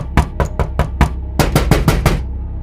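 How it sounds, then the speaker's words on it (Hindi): Heavy fists pound on a door in two fast bursts of loud, close thuds, about five blows then a brief pause and five more. "लेकिन वो जो भी था उसने जोर जोर से दरवाजा पीटना शुरू कर दिया।"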